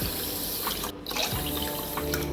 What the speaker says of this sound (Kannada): ಹಾಗೆ ಇದಕ್ಕೆ 4 ಕಪ್ ನೀರನ್ನು ಹಾಕ್ಕೊಳ್ತಾ ಇದ್ದೇನೆ